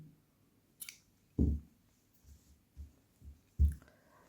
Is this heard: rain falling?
no